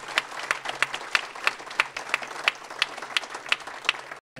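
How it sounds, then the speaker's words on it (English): Applause from an audience at a Martin Luther King luncheon in Dunkirk, New York, following a color guard's retirement of the colors. Fairly sparse, moderate clapping with individual sharp claps standing out, ending abruptly at the close. "Applause for those young people."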